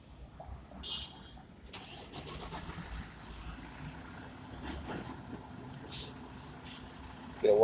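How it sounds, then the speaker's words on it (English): A truck engine struggling on a city street near Copley and Back Bay, a rough, uneven low rumble with hissing bursts like air brakes amid surrounding traffic noise, no talking. "That truck sound like he got problems going on over there."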